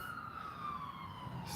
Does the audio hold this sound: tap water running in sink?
no